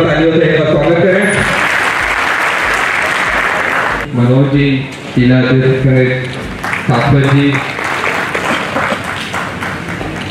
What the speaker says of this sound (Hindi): जोरदार तालियों से एक बार स्वागत करें।